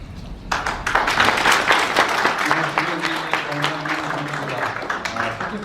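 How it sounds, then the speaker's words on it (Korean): An audience claps after a lecture, a dense, steady burst of applause that starts sharply and continues for several seconds while a voice speaks over it. "뜻깊은 강연을 해주신 김영기 강사님께 다시 한번 큰 박수 부탁드리겠습니다"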